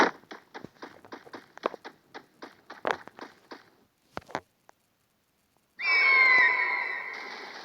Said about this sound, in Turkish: Karga mı ne bu kuş?